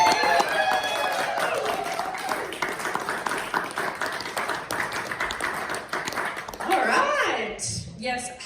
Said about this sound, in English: please, politely clap, and don't make too much noise, as we welcome Gemma Davidson